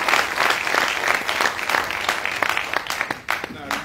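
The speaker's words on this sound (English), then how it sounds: "Una clap for President Yuan." A crowd applauds a president at a public gathering in Sierra Leone, producing a dense and sustained clapping wash that stays loud throughout. Cheers and voices mix in, and it thins slightly toward the end.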